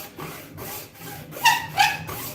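A saw works through a knife handle toward the steel tang, slowly, with rhythmic rasping strokes, two sharper squeaky bites near the end, close and fairly loud with no talk.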